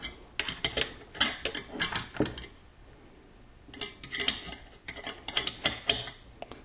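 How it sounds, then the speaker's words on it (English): Metal parts of a Remington 870 pump shotgun click and rattle together as the slide and bolt carrier are fitted, in irregular clusters of sharp, close clicks and small scrapes, with a short lull partway through. "Then we're going to put the bolt carrier onto the slide."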